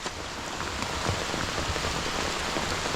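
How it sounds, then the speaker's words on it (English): Heavy rain falling steadily, a dense continuous hiss of drops pattering on surfaces, loud and close with no talk. "Yeah, the rain is falling crazy, guys."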